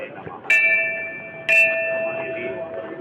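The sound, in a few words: temple bell rung at Golju temple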